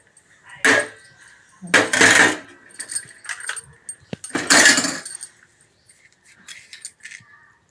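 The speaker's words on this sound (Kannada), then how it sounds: "ಚಹಾ ರೆಡಿಯಾಗಿದೆ ಈಗ ಅದನ್ನು ಚೆನ್ನಾಗಿ ಸ್ವಲ್ಪ ಸೋಸ್ಕೊಳ್ಳೋಣ" Freshly brewed herbal tea made from avarike leaves and flowers is strained, with a few sharp metallic clinks and short scraping bursts of utensils, separated by quiet pauses.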